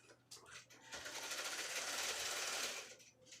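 A longarm quilting machine stitches a rose pattern with a faint, rapid, steady mechanical buzz that swells for about two seconds, then eases off.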